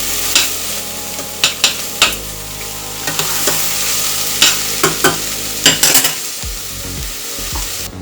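Garlic and onions sizzle steadily in a hot pan as they are stirred, with sharp scraping clatters of the utensil against the pan at irregular intervals; no voices.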